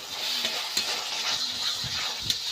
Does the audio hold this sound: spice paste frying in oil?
yes